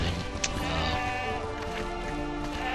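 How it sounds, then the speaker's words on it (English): Goats bleating in the video game Skylanders Giants, a wavering nasal bleat over a dense, continuous bed of game music and ambience. "there's me goats"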